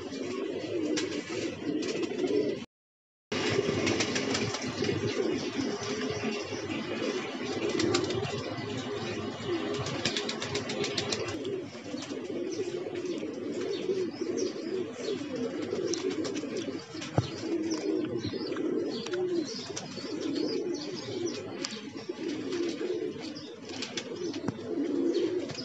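Pigeons on a rooftop coo in a steady low murmur throughout, with a few soft wing flaps and a short gap of silence near the start, fairly faint and close, without talk.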